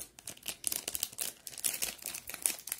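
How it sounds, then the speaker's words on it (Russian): A small plastic packet being opened, with crinkling and tearing in irregular bursts, close and fairly quiet, with no voices. "Что ж, давайте откроем следующий пакетик."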